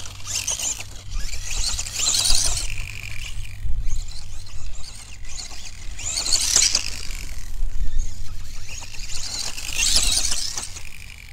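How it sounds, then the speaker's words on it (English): Tamiya Grasshopper RC car gearbox with a steel pinion, giving off a whining, grinding mechanical noise that swells in repeated surges, close and fairly loud. "you can hear a slight funny noise from the gearbox"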